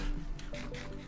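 Brief splash and bubbling gurgle as a Minecraft character jumps into shallow water, a short watery burst with a few soft pulses, close and fairly quiet, no talk.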